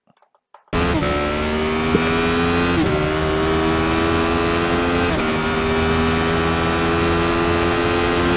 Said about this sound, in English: I'm just kind of holding it on kind of mid throttle until the car's a bit more straight on exit, then I'm going full throttle